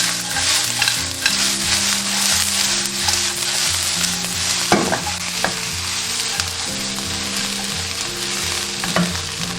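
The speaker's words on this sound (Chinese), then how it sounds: "接着加入芥菜，一把炒好的花生米，再翻炒均匀。" Mustard greens and fried peanuts are tossed in a hot wok, with a loud, steady sizzle and repeated scraping stir-fry strokes close up throughout.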